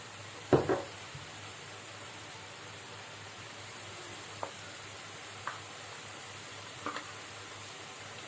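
Spices (turmeric, cumin and coriander powder) fry quietly in a pan for a jackfruit seed curry, with a soft low sizzle and a few brief scrapes and clinks of stirring, the loudest near the start.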